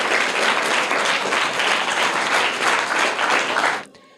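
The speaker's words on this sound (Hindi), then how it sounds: "जोरदार तालियां हो जाए।" Loud, lively applause from an audience at a Hindi quiz session, rewarding a correct answer. The clapping stays thick and even for a few seconds and then stops abruptly.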